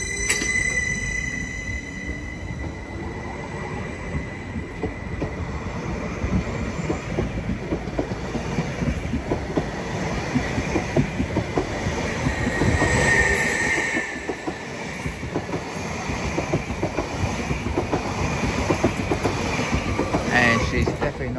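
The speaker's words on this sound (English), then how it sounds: "Soon to depart now is the slightly delayed 1439 Greater Anglia service to Norwich" A Greater Anglia Class 745 electric train pulls out of Ipswich station bound for Norwich, its loud steady traction hum and rolling wheel rumble filling the platform nearby with faint clicks of the rails.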